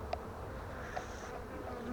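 Honey bees hum in a steady, soft drone close by at the hive, a continuous buzzing swarm with no voices.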